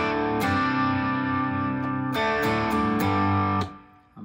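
An electric guitar, a 335, rings out sustained, effected chords with a few sharp string attacks, loud and alone, then fades briefly near the end.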